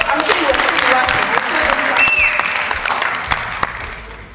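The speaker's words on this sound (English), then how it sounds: "let's clap for him" An audience claps steadily for a guest at an online youth trade event, with a dense wash of applause and voices talking over it, fading slightly toward the end.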